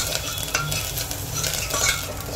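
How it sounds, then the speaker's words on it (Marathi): Spice tempering with garam masala and fresh coriander, stirred and sautéed in a hot pan: a continuous close sizzle with repeated scraping strokes of a spoon against the pan, no voices. "आणि ही फोडणी जी आहे आणि थोडीशी अशी ना परतून घ्यायची."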